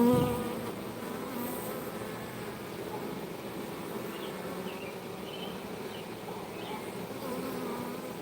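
A honeybee swarm fans heavily at the hive entrance, a steady, dense buzzing drone that carries on without a break. Individual bees pass closer now and then.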